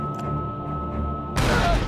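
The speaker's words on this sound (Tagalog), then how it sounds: "Narinig ni Aaron ang putok ng baril habang nasa elevator" Gunfire in a dramatic film scene about a mafia ambush; a low rumbling bed gives way to a sudden loud, dense burst of shots in the final half-second.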